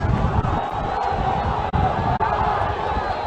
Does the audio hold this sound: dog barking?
no